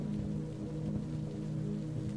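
Steady rain falls through a gray evening over a square lined with flower pots, making a dense, even patter that fills the whole stretch without pause and with no talk.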